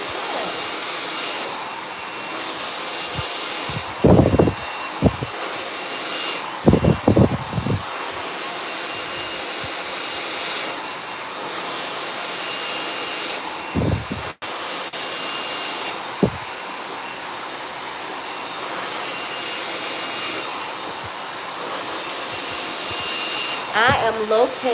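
A hair dryer blow-drying hair in a salon runs as a steady loud whoosh throughout, with speech heard intermittently over the continuous airflow.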